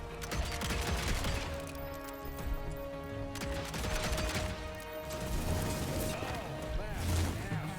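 Gun fired in the Evil West video game, a dense, rapid run of close, loud shots that continues steadily under someone talking.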